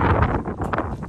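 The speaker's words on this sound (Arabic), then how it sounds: "الهواء هوا هوا هوا غير طبيعي" Strong wind buffets the microphone outdoors at a horse stable, a loud, uneven rumbling gust that rises and falls in quick surges over about a second, with no voice.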